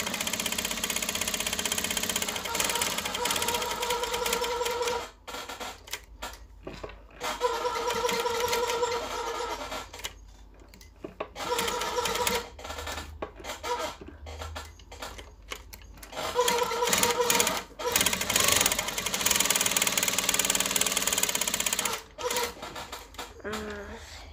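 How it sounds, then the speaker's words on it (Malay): Sewing machine stitching around the collar of a kurta, steady mechanical whirring runs in repeated bursts with short pauses between, loud and close, occasional soft talk in Malay between runs. "Kita jahit setapak keliling dia"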